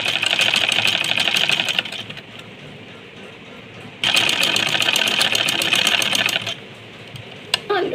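Domestic sewing machine stitching pleats in fabric, two long runs of fast, even needle chatter broken by a quiet pause, with a short burst near the end.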